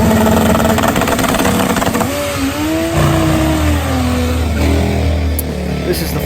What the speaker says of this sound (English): It's a turbocharged Kawasaki KZ.